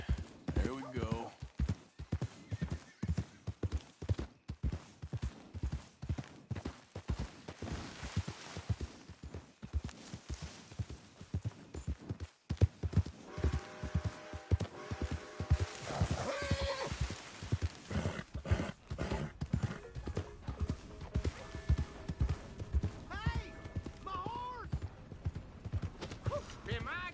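Horse hooves clip-clop at a steady walking rhythm in the video game Red Dead Redemption 2, with occasional neighs and whinnies, while someone talks over the hoofbeats.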